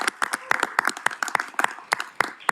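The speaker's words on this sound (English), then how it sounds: "can we give a round of applause to the facilities team at New Haven Public Schools for setting up this meeting today?" Scattered clapping from a meeting audience at New Haven Public Schools honoring the facilities team, with uneven, distinct claps that never settle into a steady roar.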